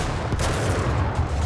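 A tank gun fires in a war film parody, a loud, dense burst of gunfire with heavy low rumble filling the short moment, close and continuous.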